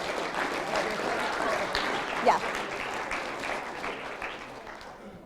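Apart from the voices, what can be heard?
audience applause for models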